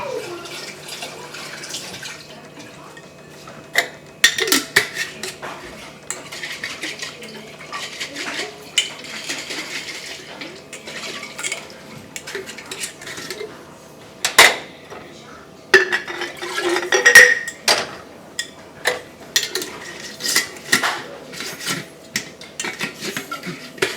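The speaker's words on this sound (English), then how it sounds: "I'm going to rinse the jars and add those liquid to it" Glass jars are rinsed in a kitchen sink, with running water, clinks of glass against glass and metal, and scattered sharp knocks spread over about twenty seconds.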